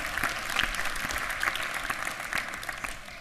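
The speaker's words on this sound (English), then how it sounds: "Yes, you can clap." Scattered clapping from a conference audience at a technical breakout session, moderately loud and somewhat uneven, with individual claps standing out in the steady patter.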